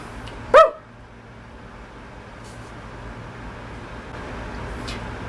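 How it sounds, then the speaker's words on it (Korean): A dog gives one sharp, close bark near the start, and then only quiet room hum follows with faint background noise. "진짜 짖는다니까"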